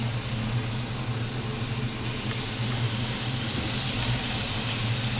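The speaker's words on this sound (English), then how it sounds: "so that'll start sizzling up there" A steady, dense hiss of bacon frying in a pan fills the clip without a break, loud and close, with a low hum underneath.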